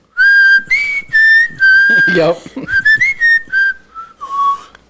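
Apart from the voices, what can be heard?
woman whistling in a recorded music duo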